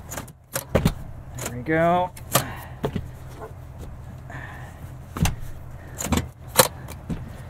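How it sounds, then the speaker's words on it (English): Rear seats in a 2021 Cadillac Escalade Sport Platinum folding down after a button is pressed twice, with a motorized whir followed by clunks and thumps of the seat mechanism nearby, while someone speaks briefly. "You can fold down these seats very easily. You just press this button twice."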